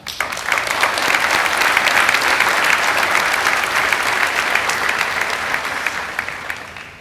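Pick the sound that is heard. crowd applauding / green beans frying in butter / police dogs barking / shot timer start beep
crowd applauding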